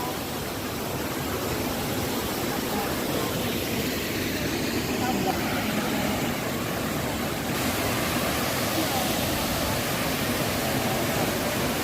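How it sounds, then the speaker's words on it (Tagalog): Hinulugang Taktak waterfall in Antipolo roars as a loud, dense, continuous rush of falling water that stays constant throughout, close by and unbroken. "dito kami sa falls"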